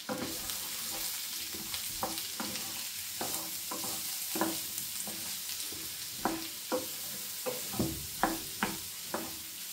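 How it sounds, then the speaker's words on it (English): Garlic and mushrooms fry in a pan over medium heat, with a steady close sizzle broken by repeated scraping stirs and soft clacks of a utensil against the pan. "I'm going to tip them all in there and fry them on a medium heat for a few minutes"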